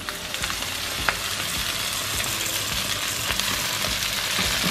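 Rice noodles for beef chow fun fry hard in a hot wok, a loud, dense, steady sizzle that runs without a break, with a few sharp spatters and pops, and no voices over it.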